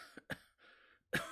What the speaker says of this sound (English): a cough overtakes her